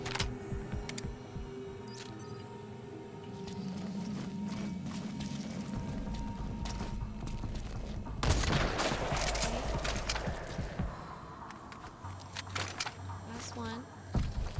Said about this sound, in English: She's like shooting from the air.